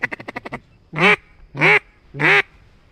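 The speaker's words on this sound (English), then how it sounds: "I'm trying to wait for these ducks" A quick series of short quacks, followed by three loud, drawn-out duck quacks spaced evenly apart, nearby and clear.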